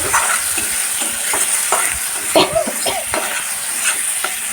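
Spice masala with onion paste frying in oil, heard as a continuous close sizzle with repeated scraping stir strokes at an irregular rhythm.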